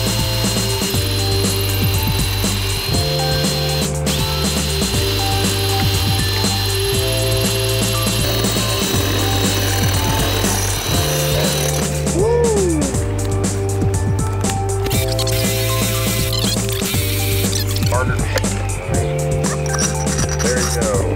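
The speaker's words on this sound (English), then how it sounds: "Here we're drilling a hole in the bowl with a ceramic drill bit" A steady, grinding drill with a ceramic bit bores into a ceramic bowl, running continuously with brief pauses and a faint high whine throughout; close and loud, no talking.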